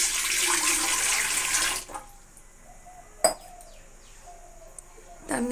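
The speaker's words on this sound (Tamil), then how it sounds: "500 ml தண்ணி ஊற்றுறேன்." Water poured from a vessel into an idli steamer pot for about two seconds, a bright splashing rush that stops abruptly, followed by quiet kitchen clatter and a few faint knocks.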